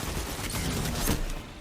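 Gunfire from the Marvel Rivals video game comes as a dense, continuous volley of shots, loud and close through the game audio, with no talking.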